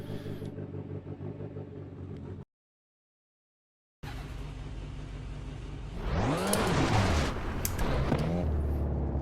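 A rally car's engine in Richard Burns Rally, revving as the brake and throttle are pumped, a steady drone that drops out briefly, then returns and swells into louder sweeping revs with rising and falling pitch.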